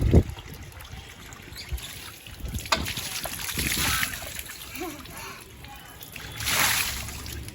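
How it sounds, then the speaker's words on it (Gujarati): Water poured from a bucket over a child's head during a bath, giving several splashing and trickling bursts alongside voices talking. "હાર્દિકભાઈ માથે થોડું પાણી એ રેડવું."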